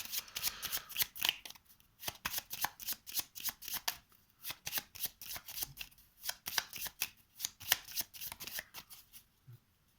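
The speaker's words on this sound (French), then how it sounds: "Je remélange les cartes périls." Peril cards for the board game Vendredi are shuffled by hand in a rapid run of crisp riffling flutters and soft taps, close and continuous for about ten seconds with no talking.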